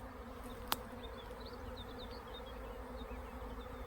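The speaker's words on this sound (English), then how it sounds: "Oh, we have a swarm." A swarm of bees near hives on Wolstonbury hill gives off a steady, dense outdoor buzz, with individual insects droning past close by and a faint click early on.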